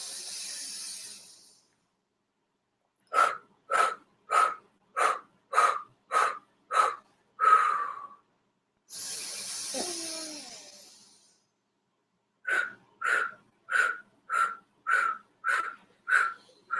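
Sharp, forceful yoga breaths through the nose come in quick, even bursts of about seven, then a long inhale, then another rapid series. The breaths are close and clear, with no talking.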